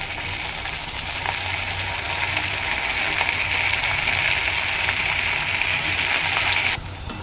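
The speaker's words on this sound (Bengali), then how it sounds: "বন্ধুরা তেল গরম হয়ে গেছে, এবার আমি এগুলোকে ছেড়ে দিচ্ছি।" Veg manchurian balls drop into hot oil in a kadai and fry with a loud, continuous bubbling sizzle that stays close and steady before cutting off abruptly near the end.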